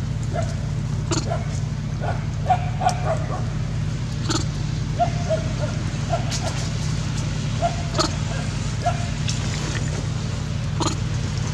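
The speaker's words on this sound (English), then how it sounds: "please don't bite me, dog." A dog yips and whimpers in scattered short bursts over a loud, steady low hum, with some talk mixed in.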